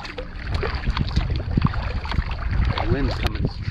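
Steady wind gusting over a tidal bay at low tide near Weedon Island, roaring close on the microphone from a small boat, with faint water sounds and brief voice-like tones underneath.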